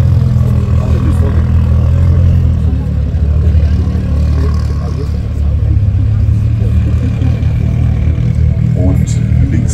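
Toyota GT86 idling on the right lane at a drag strip start line on an airfield, a steady low engine drone with other cars rumbling around it, with an announcer talking over it.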